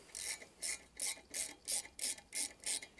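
Steady ratchet working loose the last exhaust manifold bolt on a car, about eight even rasping strokes in a regular rhythm, close and clear with no talking.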